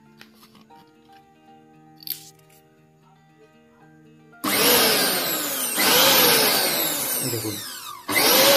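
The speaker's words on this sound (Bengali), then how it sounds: "এবার আমি একবার মেশিনটা আপনাদেরকে চালিয়ে দেখাবো।" A USHA Spin Pro 500 W mixer grinder, with three speeds, sits quiet with faint clicks before roaring to life midway, a loud whirring in two long bursts split by a brief dip.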